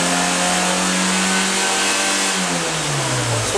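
A Fiat Palio car engine revved and held above 5000 rpm, a loud, steady high whine close by that drops away as the revs fall back toward idle.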